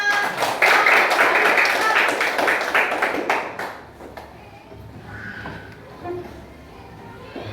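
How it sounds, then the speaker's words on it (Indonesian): A class of children claps their hands, a dense burst of applause that fades out after a few seconds, leaving quieter room noise and scattered sounds. "Tepuk tangan anak-anak."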